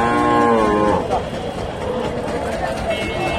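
A crossbred dairy cow moos loudly and close by at a busy livestock market, a long drawn-out call in the first second followed by crowd murmur and general market bustle.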